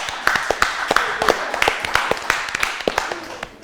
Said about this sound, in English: I want to clap for the Mississauga Moment